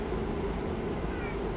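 A cat gives a drawn-out meow, close by and moderately loud, over a steady background rumble.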